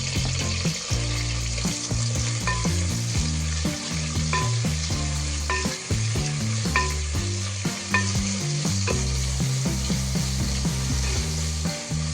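Onions fry in hot oil for chicken sukka, a steady close sizzle with repeated scraping and stirring of the pan, with no voices.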